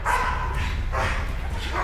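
A dog barks and yips during a prey drive evaluation, close and fairly loud, with a handler in protective gear acting as prey and people talking around it.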